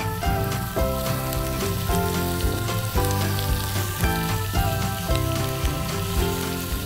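Minced beef sizzles in a pan with lightly fried onions, a dense, continuous crackling fry that stays loud and close without any talk.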